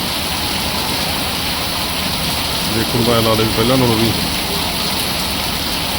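Heavy rain pours down in a steady, dense wash of noise, with someone speaking briefly in the middle over it.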